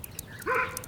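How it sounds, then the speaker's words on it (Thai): A single dog bark in a village, used as a sound effect in a 3D ghost-story animation. It is brief and fairly close over a low background hum. "เสียงหมาเห่าดังก้องในหมู่บ้าน"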